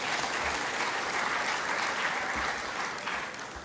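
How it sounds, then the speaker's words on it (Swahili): Audience applause at a speech on national debt, a dense, steady clapping from a large crowd that fills the space evenly for several seconds without letting up. "Muwapigie makofi."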